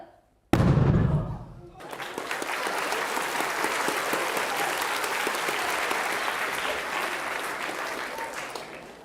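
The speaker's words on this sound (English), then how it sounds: "That explosion, did you all feel it?" A loud explosion set off as a classroom or lecture-hall demonstration bursts in abruptly after a short quiet, a heavy low thump followed by a dense, sustained roar and crackle that fills the rest of the span.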